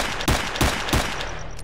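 Gunfire in STALKER: Shadow of Chernobyl with realistic weapons mod, three sharp, loud shots spaced about a third of a second apart, each followed by a brief ringing tail, then fading to quiet.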